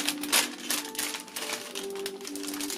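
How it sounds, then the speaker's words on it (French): A blind bag sachet is torn open with crisp, uneven crinkling and rustling bursts up close, while soft sustained tones hum faintly underneath. "je vais ouvrir le sachet"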